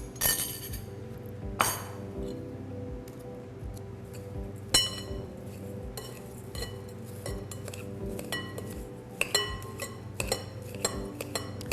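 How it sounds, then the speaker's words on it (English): Butter is cut into an oatmeal, sugar and blueberry-powder topping in a bowl, giving repeated sharp clinks and taps of a utensil against the bowl, irregular and close, with quiet scraping between. "The idea is to cut the butter into little tiny pea-sized pieces"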